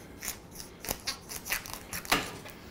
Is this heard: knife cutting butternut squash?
yes